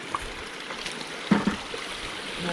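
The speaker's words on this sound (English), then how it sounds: "We're a little closer to the creek." Creek water flowing over rocks near a snowy hiking trail in Greenwater, Washington, a steady faint wash with a few brief splashes and knocks partway through.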